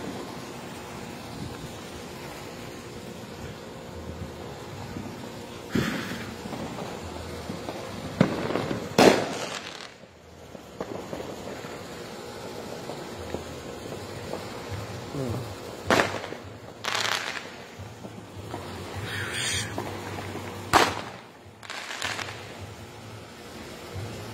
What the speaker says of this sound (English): that's where fireworks coming from.